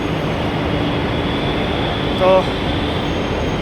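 A Delhi Metro train runs at steady speed with a constant, close rumble of the carriage and track. A brief tonal chime sounds partway through, and people talk over the noise.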